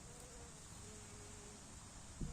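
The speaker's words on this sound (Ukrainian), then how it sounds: "тут теж бджілки он, працюють" Bees buzzing around flowering bushes outdoors, a faint continuous hum under a wide wash of ambient background, with a brief louder rustle at the very end.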